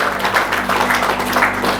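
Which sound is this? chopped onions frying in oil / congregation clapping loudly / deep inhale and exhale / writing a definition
congregation clapping loudly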